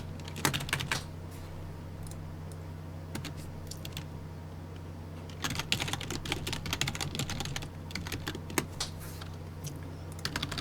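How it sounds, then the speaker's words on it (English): Someone types on a computer keyboard while working through code, with bursts of quick clicking keystrokes separated by pauses, close but fairly quiet over a steady low hum. "I'm getting sick of typing."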